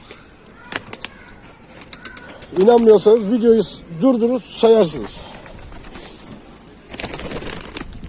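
Pigeons coo in a mid-range loft, a flock of about sixty-five birds giving repeated warbling calls in bursts, with someone talking over them and occasional wing flaps and clicks.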